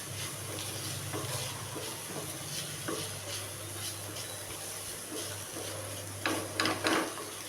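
Beef masala being stirred and fried in a pan with chili powder, turmeric, pepper and cumin, giving a steady close sizzle with soft scraping strokes and a low hum underneath.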